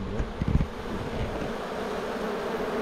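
Honey bees buzz inside an open fireweed honey hive, a steady close drone with a few louder bumps near the start and a windy hiss beneath, no talking.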